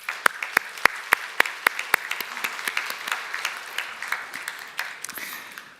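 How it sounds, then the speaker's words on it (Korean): A church congregation at a Sunday service claps to welcome a newly married couple, opening with a few sharp, evenly spaced loud claps that quickly spread into a scattered round of applause before easing off. "우리 한번 인사할 때 여러분 박수해 주시기 바랍니다"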